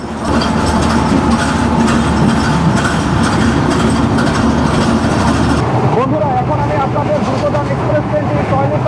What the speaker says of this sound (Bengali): তিন মিনিটের মতো স্টপেজ দিয়ে আমাদের ট্রেনটি এখন নাটোর স্টেশন ত্যাগ করতেছে